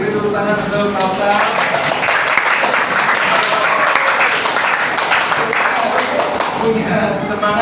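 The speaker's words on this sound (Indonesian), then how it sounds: "beri tepuk tangan untuk Kausa" A classroom group claps for a student named Kausa, a sustained burst of clapping lasting several seconds at even strength, with voices mixed in underneath.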